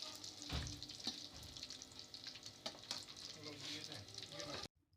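Masala fish pieces hiss and crackle as they fry in hot oil, a steady sizzle with a few louder pops and spatters. The sound then cuts off abruptly.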